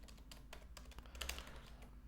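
Quiet computer keyboard typing while a password validation form is being coded: a steady run of soft, irregular key clicks, close and fairly faint, with a brief cluster of sharper taps near the middle.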